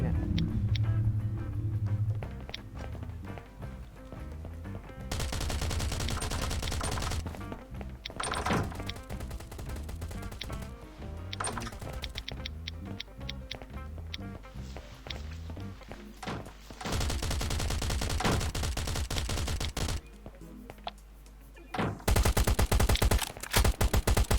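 Gunfire in the survival video game Last Island of Survival: repeated loud bursts of rapid automatic shots and single cracks, broken by short quieter gaps with thuds and footsteps.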